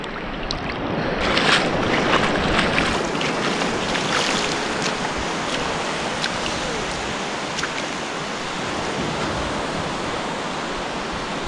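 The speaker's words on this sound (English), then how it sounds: "Tide's coming in quick as well." Waves of an incoming tide wash steadily onto the shore, a continuous close roar of surf with breezy wind mixed in and no voices.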